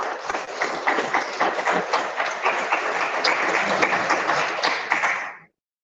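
A conference audience applauds a government minister at a business mission event: sustained, dense clapping from a crowd, steady and fairly close, that carries on for several seconds and then stops abruptly.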